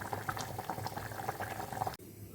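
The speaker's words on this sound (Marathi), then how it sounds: "हे का छान अशी मस्त उकळ आलेले आहेत आणि आपलं खेकड्याचं रस्सा" Malvani-style crab curry (rassa) bubbling at a steady boil in a pot, soft irregular pops and blips running close up, then abruptly cutting to a quieter hiss near the end.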